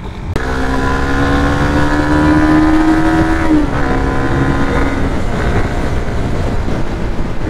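A 2024 Suzuki Raider 150 FI motorcycle engine drones steadily while being ridden, its tone rising under acceleration then dropping off as the rider shifts, close and loud with wind rush throughout.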